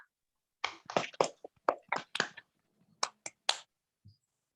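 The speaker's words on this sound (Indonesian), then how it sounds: "Kita kasih aplaus dulu untuk kelompok 3." Classroom applause from students for a presenting group: a short burst of scattered, uneven claps lasting a few seconds, fairly close, with no talk over it.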